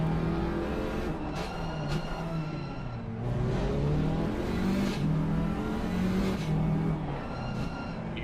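KTM GT4 race cars on a formation lap at Watkins Glen, engines droning and rising and falling as they weave, a loud continuous roar from several cars close by.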